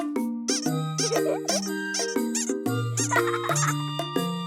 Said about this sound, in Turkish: bir oyuncak ördek.